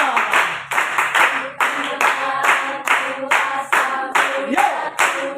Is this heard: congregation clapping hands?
yes